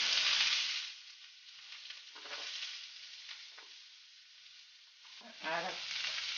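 Onions sautéing in a pan for a zucchini and mushroom dish, a strong sizzle bursting at first, easing into quieter frying with stirring scrapes, then swelling again near the end, with no talking.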